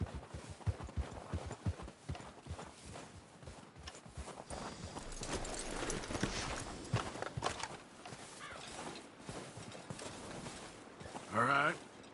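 Horses' hooves clop along at a walking pace in Red Dead Redemption 2, a steady run of hoof beats that thins out over time, with voices talking over them.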